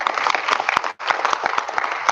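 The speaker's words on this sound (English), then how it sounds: "please, a big round of applause for Shobanaji" An audience at a community event breaks into dense, sustained applause, many hands clapping close and loud, with a brief dip near the middle before the clapping carries on.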